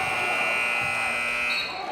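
A loud, sustained electronic buzzer sounds to end the first period at a varsity boys basketball game, a steady harsh drone filling about two seconds with faint gym noise beneath.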